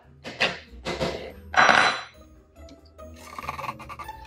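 Soaked lentils and mung beans tipped into a blender jug land in a few clattering, rattling bursts, then a softer scraping and shuffling as the last beans are pushed in, close and fairly loud with no talking.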